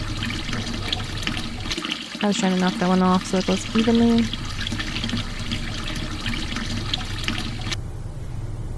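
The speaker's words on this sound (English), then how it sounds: "Run that water. Has to be cold." Cold water running from a kitchen tap over freshly boiled eggs, a steady hissing flow heard throughout, with a person talking partway and a brief clattering of eggs, before the stream cuts off near the end.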